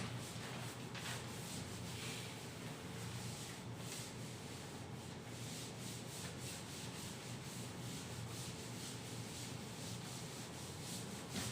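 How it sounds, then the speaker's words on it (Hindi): A classroom board being wiped clean: steady, close rubbing and scrubbing strokes with no pause, fairly faint. "इसको रब कर दे रहा हूं मैं"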